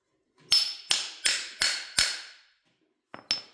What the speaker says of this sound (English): Didn't even have to press it on, just a little tap.